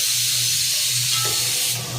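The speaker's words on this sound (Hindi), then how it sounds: "हमारी कुकर की सीटियाँ हो रही है" A pressure cooker whistle lets out a loud, continuous high-pitched hiss of escaping steam with a low hum underneath, steady for the whole stretch.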